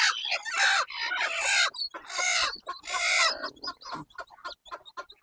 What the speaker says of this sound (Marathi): इथे एका कोंबडीचे पिल्लं आहेत